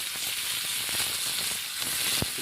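Fish frying in a pan, a steady close sizzle with scattered small pops and crackles throughout.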